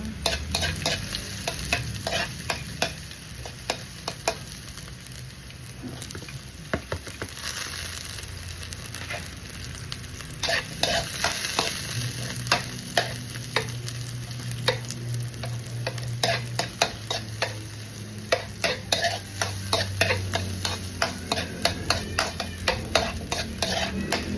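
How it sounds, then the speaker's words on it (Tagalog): Garlic sizzles in a hot pan for chop suey while a utensil stirs it constantly, giving a continuous close crackle packed with rapid, irregular scraping clicks that keep going for the whole stretch, with no voices. "Ilagyan natin yung bawang."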